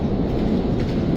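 Qatar's metro train running through an underground tunnel, giving a steady, loud, continuous rumble with no break.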